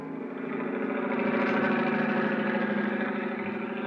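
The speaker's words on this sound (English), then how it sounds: "I don't know which was throbbing the most, the helicopter engine or my head" A helicopter engine throbs in a steady, pulsing drone that swells slightly and holds close and loud throughout, with no voices over it.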